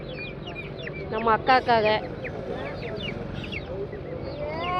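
Chickens cluck and squawk nearby at a poultry market in Kunnathur, with a loud burst of agitated calls, over a busy background of crowd chatter and a brief spoken phrase.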